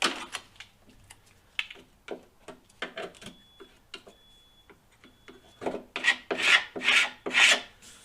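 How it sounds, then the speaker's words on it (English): A fender being sanded during modification work: quiet, rhythmic rasping strokes that repeat steadily and grow louder and denser toward the end, with no talking. "get the big stuff off and hit it with the sander"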